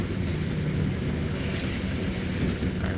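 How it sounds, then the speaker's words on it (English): An air-conditioned bus drives along in India, filling the space with a steady broadband rumble of engine, road and cabin noise, continuous and fairly loud with no talking. "Not bad for an air-conditioned bus."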